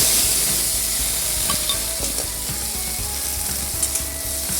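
Chopped onions frying in oil for a cabbage fry, a steady close sizzle with scraping stirs and clicks of a spoon against the pan throughout, no voices.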